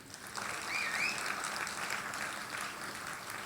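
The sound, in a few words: audience applause for film artists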